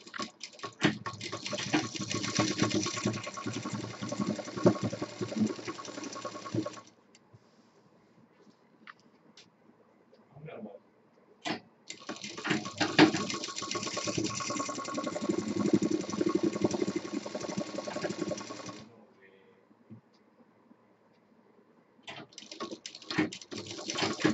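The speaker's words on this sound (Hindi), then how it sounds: "और ये दूसरी तरफ का सिल देते हैं।" A sewing machine stitches a cushion made from waste fabric, running in three long steady bursts of rapid close-up mechanical clatter separated by quiet pauses with faint handling noises.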